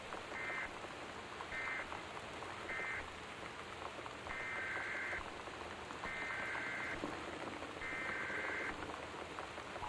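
Torrential rain in the video game Gone Home hisses steadily throughout a stormy scene, while a series of short electronic warning tones repeats at regular intervals over the downpour.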